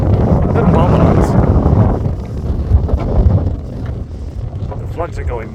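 Strong, heavy wind gusting at Manchester Airport, a loud continuous roar buffeting the microphone that eases slightly toward the end.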